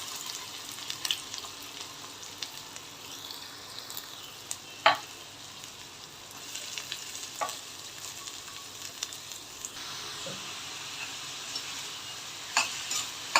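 Tomato and onion with chilli sautéing in a pan for spicy egg bhurji, a steady close sizzle and fry with occasional sharper crackles and spoon scrapes, no talk.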